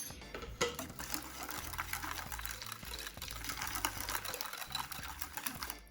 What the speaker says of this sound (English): actually I'm just going to whisk it.